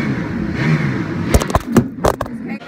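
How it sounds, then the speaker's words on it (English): A car engine revs in a racing simulator at a NASCAR attraction, building from a low rumble into a few sharp, loud bursts of revving and crackle close by. "please tap your gas to start your engine"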